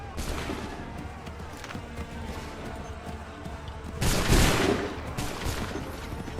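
Musket volley in Assassin's Creed III: a dense, rumbling spread of overlapping shots running throughout, swelling into a heavier, louder burst near the end before easing back to a steady crackle.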